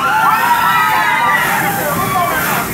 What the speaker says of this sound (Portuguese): Quem tá animado dá um grito